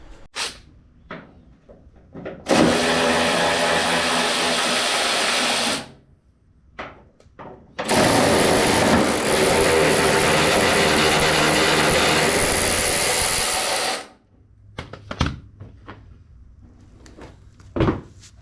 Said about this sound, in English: there's gonna be 2 hidden bolts right underneath here, and we're gonna go ahead and remove them